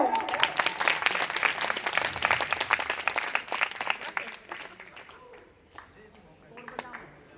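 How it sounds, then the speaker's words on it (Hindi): Audience at a Bhagwat katha breaks into dense, sustained clapping that fades toward the end, with voices mixed in. "एक बार सब तालियां तो बजा दो।"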